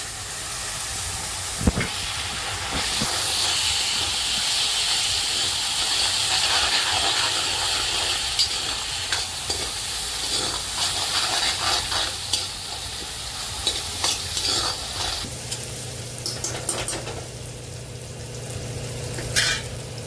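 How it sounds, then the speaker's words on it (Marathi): Tomato and paste frying with onion in a pan for spicy hotel-style soybean curry, a long steady sizzle and hiss with intermittent stirring scrapes and taps, no voices. "तर आहे का आपण टाकू टमाटा आणि पेस्ट."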